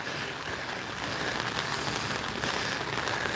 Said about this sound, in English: There must just be a patch of rain right through here.